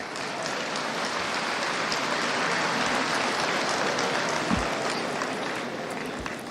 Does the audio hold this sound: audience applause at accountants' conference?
yes